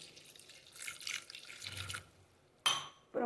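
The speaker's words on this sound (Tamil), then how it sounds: "கொஞ்சமாக தண்ணி விட்டுக்கலாம்." Water poured into a cooking pot with soaked beans in a home kitchen, a soft splashing trickle in the first two seconds, then quiet, followed by two sharp metallic clinks of the pot.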